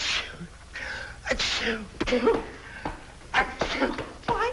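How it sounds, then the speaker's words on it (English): Several loud sneezes in quick succession, with breathy gasps between them and a voice speaking briefly. "Oh, I get to sneezing like that, and sometimes it almost kills me."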